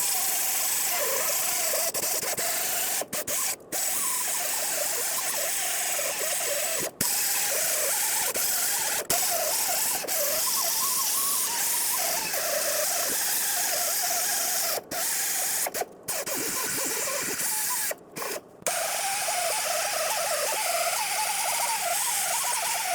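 A worn-out sanding disc scuffs the drive shaft mounting surface on a 2008-2010 Ford F-250, giving a continuous whirring grind broken by several brief stops and restarts, with no talk.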